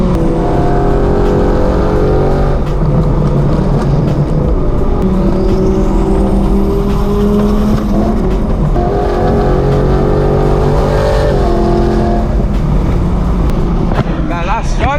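A BMW E92 M3 is driven hard at speed behind a Lamborghini Huracan and a McLaren 720S. The loud engine drone rises and falls with the gear changes and is overlaid by heavy road and wind roar.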